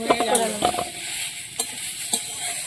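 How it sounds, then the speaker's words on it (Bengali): Hot oil sizzles steadily as elephant foot yam leaves fry while a utensil scrapes and clinks against the pan a few times, close and fairly loud. "আমার পাতা ভাজা হয়ে এসছে"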